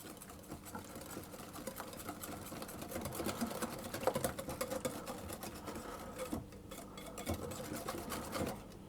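Eggs and sugar are whisked for chocolate banana muffin batter, a quiet, fast, rhythmic scraping and tapping in a bowl that runs continuously with small swells in intensity.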